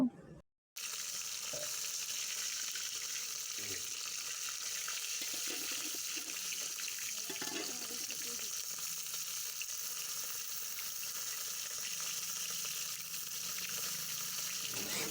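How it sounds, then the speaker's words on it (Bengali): Fish sizzling steadily in hot oil in a pan, being fried on one side before turning, a dense continuous crackle that starts after a brief silence and carries on close and fairly loud with occasional stirring and scraping. "মাছগুলো আমার এক পিঠে হয়ে গেছে এবং আমি আর এক পিঠে উল্টে দেব।"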